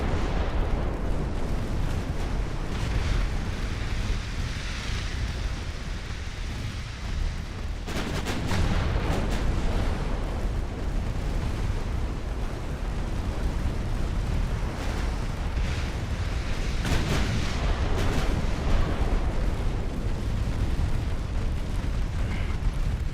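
Warship guns in Ultimate Admiral Dreadnoughts, a naval battle with iron-armored ships, fire in heavy, rumbling salvos, with loud bursts breaking through a constant roar and sharp blasts recurring every few seconds.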